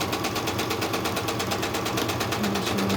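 A sewing machine stitches down a crazy crumb quilt block, its needle hammering in a steady fast rhythm, close and constant throughout.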